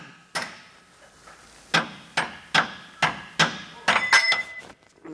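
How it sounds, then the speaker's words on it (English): A hammer knocks a shackle stud out of the threaded end on a Toyota Tundra's front suspension during a 3-inch lift install, seven or eight sharp metallic taps at a steady rhythm, close and loud, with no talk. "you're going to want to head and hit the stud part that's out of the threaded end and hit it out"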